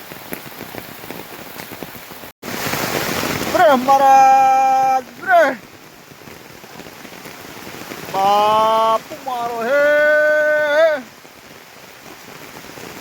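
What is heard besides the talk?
heavy downpour of rain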